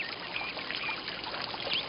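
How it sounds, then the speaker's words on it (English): Steady, even rush of flowing water close by, continuous with no voices, with faint chirps now and then above it. "I hear the water."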